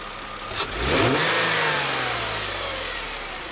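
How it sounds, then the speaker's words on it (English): A Mercedes CLK 320 engine revs up sharply from idle, then holds and slowly winds back down, close and loud with no talking. "I'll rev it up for you a little bit."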